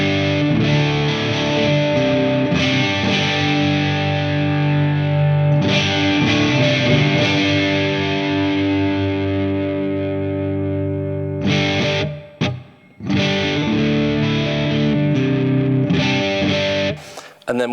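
Electric guitar played through a TONEX One pedal with reverb added, heavily distorted sustained chords ringing out with a lingering reverb tail, a few brief pauses and a final strum near the end, loud and alone.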